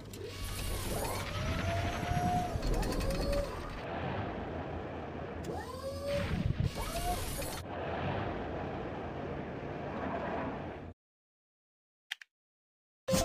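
An excavator at work, its engine churning under clanking mechanical whines and rising hydraulic squeals that sweep up and down in repeated bursts, heavy bangs between them, before ending abruptly in silence.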